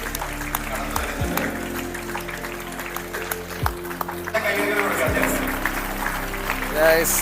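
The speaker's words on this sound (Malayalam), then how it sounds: "എല്ലാവരും നല്ല നിറഞ്ഞ കയ്യടികൾ കൊടുക്കുക" An audience applauds at a convocation as a guest named Bochhe enters, a steady patter of clapping beneath a voice over a loudspeaker, with low rhythmic thuds throughout.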